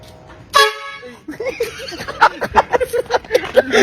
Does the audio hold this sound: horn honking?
yes